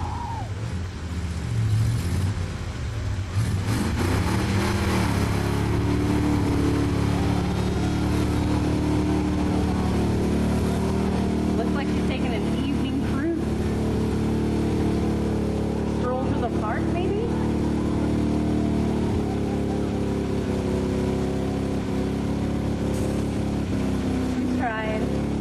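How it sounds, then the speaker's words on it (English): An old jalopy car engine runs loud and steady throughout, a continuous low rumbling drone that fills the recording, with voices talking over it. "the name of this vehicle is the Old Jalopy"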